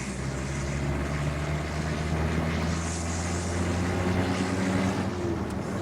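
A 1974 Land Rover 88 Series III Lightweight engine drones steadily from inside the cabin on a road run through the gears, a close, continuous low hum with shifting tones as it pulls.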